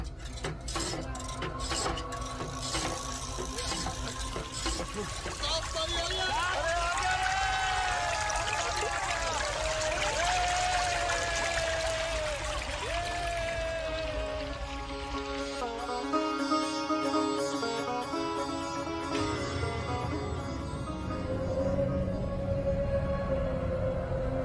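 Water flows and trickles steadily, with clinks of metal and dishes mixed in and a continuous splashing stream that grows fuller toward the end; faint voices sit underneath.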